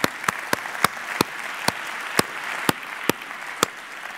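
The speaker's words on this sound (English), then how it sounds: "let's give a big applause to the panelists" Applause for panelists at a circular-economy financing conference, a steady patter of audience clapping with a few sharp, louder claps standing out at irregular intervals near the microphone.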